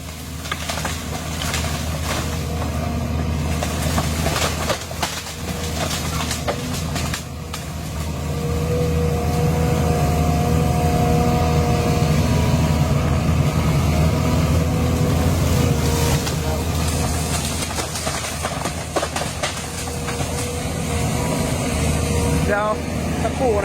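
An SDLG E6205F excavator engine working hard under a power test, with a loud, sustained diesel roar that swells and holds with some clanking, and voices talking over it.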